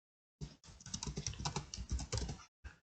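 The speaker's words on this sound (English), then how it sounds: "You can just type this question here on the label." Typing on a computer keyboard, a close, quiet run of rapid key clicks lasting about two seconds, then a brief final burst of taps after a short pause.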